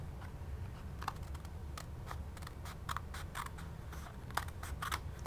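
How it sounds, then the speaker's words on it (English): Scissors snip through a scored cardstock flap in a quick run of sharp, close cuts over a steady low background hum. "I decided I would just cut it off with my scissors"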